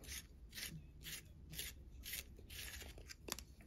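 A colored pencil is sharpened with a steady run of soft, rhythmic rasping scrapes, repeated strokes of the blade against the wood and lead, close and quiet, ending in a few small clicks.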